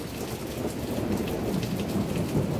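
Steady rain falls with a low rolling rumble of thunder underneath, a dense continuous wash with no voices.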